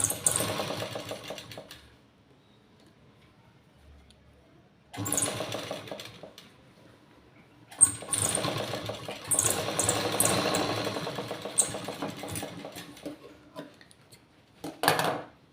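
A sewing machine stitching the lining of a work blouse runs in three loud bursts of fast, even whirring, separated by quiet pauses, with no talk.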